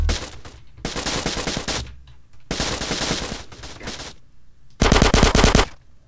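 Bursts of Uzi machine gun fire in GTA San Andreas, three long rapid volleys separated by short gaps, the last one loudest, crisp and close with no talking.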